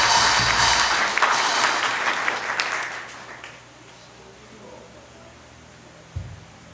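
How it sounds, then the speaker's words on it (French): Applause from a church congregation rises loudly at first, then fades out after a few seconds, leaving quiet room noise and a soft thump near the end. "Applaudis, applaudis."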